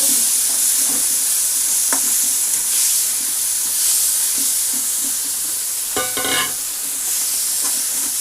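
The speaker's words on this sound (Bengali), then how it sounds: "আর যেটা ম্যারিনেট করা পেঁয়াজ রসুনের পেস্টটা ছিল ওটাও দিয়ে দেবো। ভালো করে নাড়াচাড়া করব।" Onion-garlic paste sizzling in a frying pan while being stirred, a steady close hiss broken by soft scraping knocks and one louder clatter of the spoon against the pan, with no speech.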